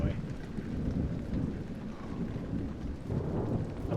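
Steady rain with low rumbling thunder outside in the game Amnesia: The Dark Descent, a continuous dull roar with a swell of rumble near the end, no talk.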